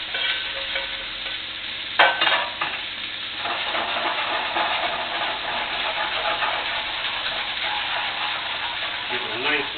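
Shallots and wild mushrooms hit hot butter sauce with a sharp sizzle, then keep frying in a steady hiss as the pan is stirred, close and loud.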